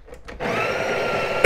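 A Breville espresso grinder spins up and grinds coffee beans at grind setting 13, a steady close whirring that starts after a short pause and runs continuously to the end, with a sharp louder burst at the finish.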